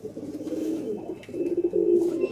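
A Punjabi high-flyer pigeon, a Salkoti breed, coos close by in a low, steady rolling throb with a brief dip partway through and no voices.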